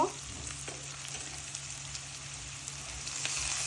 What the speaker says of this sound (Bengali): তেল গরম হয়েছে দিয়ে দিব পেঁয়াজ কুচি পরিমাণ মতো লবণ দিয়ে দিব